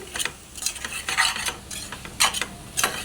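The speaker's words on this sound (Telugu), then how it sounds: "బంగాళదుంపలు కూడా వేసుకుని బాగా కలుపుకోవాలండి బాగా బాగా మగ్గుతాయండి బాగా కలపాలండి" Potatoes and vegetables stirred for vegetable khichdi in a pan, with a spoon scraping in quick, irregular bursts and a faint sizzle underneath.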